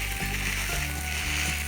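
Hash browns frying flat on a Blackstone griddle give a steady, close sizzle with a constant hissing crackle and no talk.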